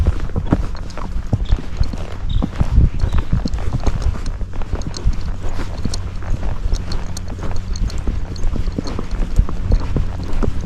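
Hooves of a Missouri Fox Trotter horse doing a flat walk outdoors, a steady, close clip-clop rhythm of repeated hoofbeats continuing throughout with no talk.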